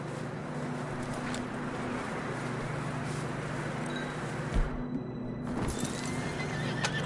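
Horses in a video game neigh and whinny while hooves clip-clop steadily over a constant loud background, with a couple of sharper thuds partway through.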